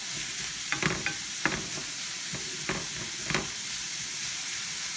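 Half an onion fries in a pan with a soft, steady sizzle and hiss, broken by a few light scraping stirs.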